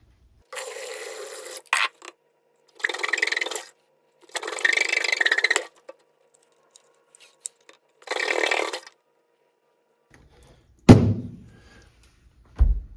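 A drain agitator works in a clogged sink drain, giving several separate bursts of rasping, scraping friction with pauses between them, then a couple of hollow thunks near the end.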